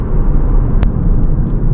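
A Lexus ES 300h F-Sport 2021 with a fourth-generation hybrid system drives along, giving a steady, loud low rumble of road and cabin noise with one brief sharp click partway through.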